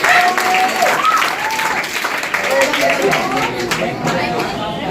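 Sustained audience applause fills a hall at a general knowledge quiz competition, dense broadband clapping steady for several seconds, with a voice speaking faintly over the crowd.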